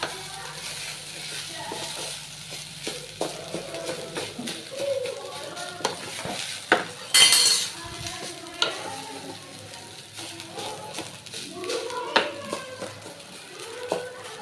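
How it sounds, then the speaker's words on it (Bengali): Jujube bharta warming in a pan while it is stirred, giving soft sizzling with scraping and clinking strokes at an irregular pace, close and clear, with no talk. "এখন আবার মেয়ে এটার জন্য আমি গরম করতেছি।"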